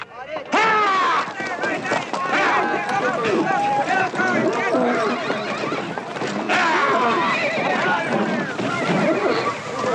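A horse whinnies loudly and repeatedly, with hoofbeats and voices mixed in.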